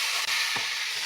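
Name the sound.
frying onions with five-spice in a pan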